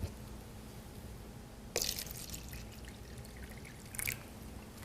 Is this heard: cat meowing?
no